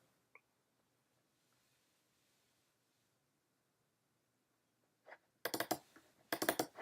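Quick bursts of computer keyboard typing in a quiet room, starting after a long near-silent stretch with two dense clusters of clicking keystrokes near the end.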